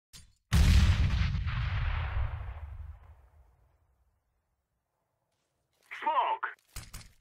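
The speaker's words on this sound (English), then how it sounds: "Throwing a grenade." A grenade goes off in the game CS:GO: one sudden, heavy boom with a long rumbling tail that fades out over several seconds. Silence follows, then a brief burst of a clipped voice.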